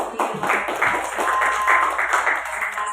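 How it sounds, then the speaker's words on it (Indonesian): An audience at a school presentation breaks into applause, a dense, steady patter of many hands clapping at close range for a few seconds. "Tapi tepuk tangan sekali lagi buat Pak Rizky luar biasa."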